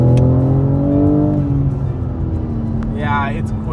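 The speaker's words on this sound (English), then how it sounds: "I want you to hear the exhaust if you can." A 2024 BMW M4 Competition's exhaust drones as the car accelerates in Cape Town traffic, engine tone climbing then easing off, with the driver talking over it.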